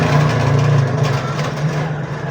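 A motorcycle engine idles steadily up close, a constant low throbbing rumble with an even, unbroken drone and no voices over it.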